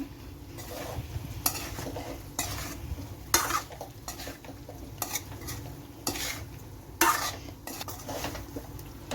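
Chicken pickle is stirred with salt in a pan, a spoon scraping and clinking against the metal in irregular strokes over a low background sizzle, close and moderately loud.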